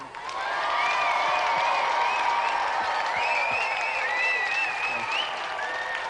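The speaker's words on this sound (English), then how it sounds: "Round of applause for Simon." Applause from a TV game show studio audience at a javelin event, sustained clapping with some whoops and cheers that swells quickly and holds at a fairly even level throughout.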